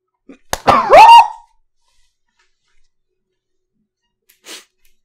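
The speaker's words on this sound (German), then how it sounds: "ich muss, glaube ich, gleich niesen" A single loud, close human sneeze with a sharp inhaled build-up and explosive release, followed by near silence and a faint brief sound a few seconds later.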